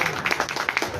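Audience clapping at a district-level armed forces ex-servicemen honour ceremony in Gangapur City, a brief burst of dense, fairly close applause with a few sharper individual claps.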